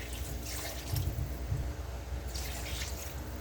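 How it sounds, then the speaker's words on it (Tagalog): Water runs and splashes into a cooking pot of chicken tinola after onion, garlic and ginger were sautéed in a little oil, a steady close trickle with a few louder gushes and no talking. "lagyan na natin ng tubig"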